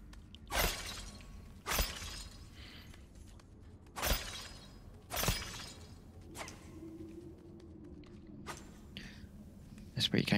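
Objects shatter in the VR game Moss Book 2, with about five sharp smashing bursts spaced a second or two apart over a quiet background, and a few softer knocks near the end.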